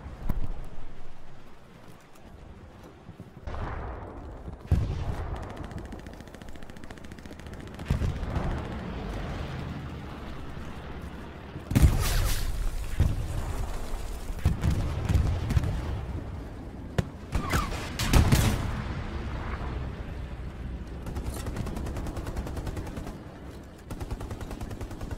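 Gunfire fills a World War II battle in the video game Hell Let Loose, with sharp single shots and bursts of automatic fire near and far, plus heavy blasts and booms, spread irregularly across a rumbling battlefield background.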